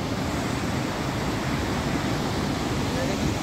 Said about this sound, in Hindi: इसके बाद पानी का देखिए रौद्र रूप इतना